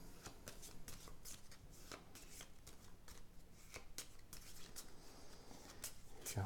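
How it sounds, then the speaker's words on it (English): Cards from a Pentaquark game deck are shuffled in a quick run of crisp riffling bursts, close up and steady for several seconds, with no talk. "We shuffle it up."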